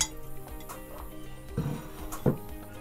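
A spoon scrapes and clinks inside a Cherokee Tan pumpkin while scooping out seeds and goo, with a few scattered scrapes and two louder knocks near the end.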